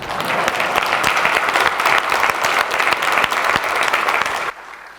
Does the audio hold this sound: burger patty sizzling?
no